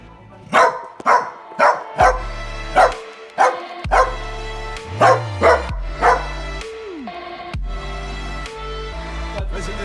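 Two dogs bark from a balcony in a rapid string of loud, sharp woofs, about a dozen in close succession, then tail off into lower whines and a softer yelp, with a steady low hum underneath.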